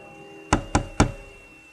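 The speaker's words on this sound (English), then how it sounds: "came some time afterwards and knocked at the door" Three sharp knocks on a wooden door, evenly spaced and close, with a short decay after each and quiet background between them.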